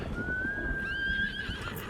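A horse in the video game Ghost of Tsushima lets out a clear, drawn-out whinny over a steady bed of game ambience and low rumble.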